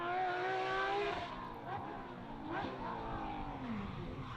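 A two-wheel-drive Porsche 997 GT3 rally car driving on slippery roads at the Ypres Rally, its engine loud and close, with shifting, wavering pitch and a rough gritty roar.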